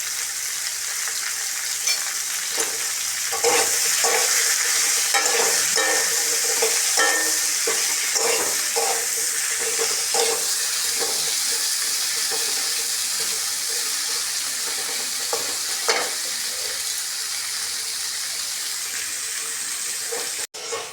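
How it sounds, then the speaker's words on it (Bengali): Potatoes and vegetable stems frying in a pan, a continuous close sizzle with repeated rhythmic scraping stirs over about twenty seconds, ending in a sudden clatter, no speech. "বন্ধুরা আমার আলু আর ডাটা ভাজা হয়ে গেছে"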